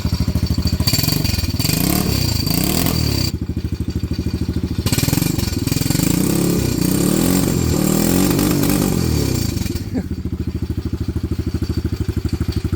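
A Venom Madix 125 quad's small engine runs close by with a rapid, chugging idle. It breaks into repeated throttle blips and revs, drops back between them, and keeps going without speech.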